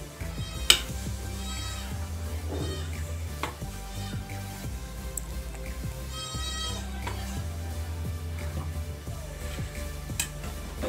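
Noodles being stirred in an oiled pot, with steady sizzling and repeated clinks and scrapes of a utensil against the metal, close and continuous.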